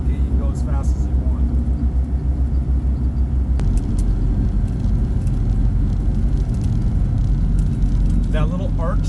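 A car rolling along a farm road, its steady engine rumble and road noise continuous and close throughout while people talk inside.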